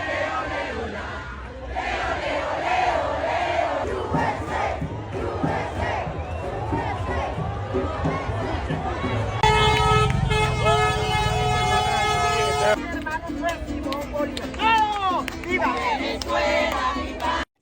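A street crowd of Venezuelans cheers and shouts continuously, voices rising in chorus, while car horns toot through the middle stretch of the celebration.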